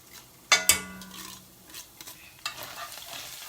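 A spoon stirs a pot while cooking vegan beef and broccoli, giving two sharp metallic clinks near the start followed by softer scraping and sizzling sounds up close, with no talking.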